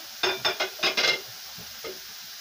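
Tomatoes hitting a hot frying pan produce a quick run of about five sharp sizzling bursts, then a softer, fainter one after a short pause, close and clear.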